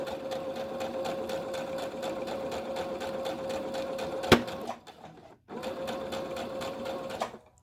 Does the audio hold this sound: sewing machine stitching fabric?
yes